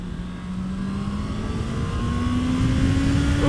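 A Honda CBR650R motorcycle accelerating on the road, its engine note climbing steadily under wind rush, loud and close throughout with no talking.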